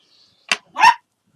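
A pet dog gives two sharp barks close by in a quiet room, a brief yip followed by a fuller bark, with silence around them.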